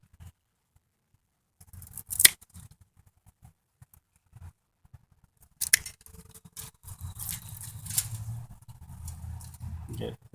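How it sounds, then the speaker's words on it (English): Pruning shears snip back a grapevine cutting, with two or three sharp, close clicks spread among rustling of handling and quiet stretches, and a voice speaking briefly. "I'm going to start out here by pruning this back."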